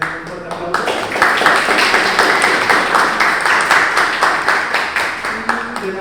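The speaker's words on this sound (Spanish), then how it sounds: "quiero que les den un fuerte aplauso" Audience at a graffiti history event in Peru applauding loudly and steadily for about six seconds, a dense wash of many hands clapping, with some voices and cheering mixed in.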